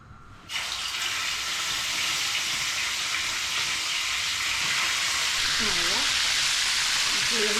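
Chicken wings fry in oil in a tagine with a loud, steady hiss and crackle that starts abruptly and holds constant, while someone speaks briefly over it near the end.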